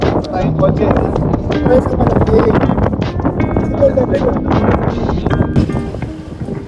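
Gusty wind buffets the microphone with heavy low rumbling during a motorcycle ride in Ilocos, while people talk loudly over it; the noise eases near the end.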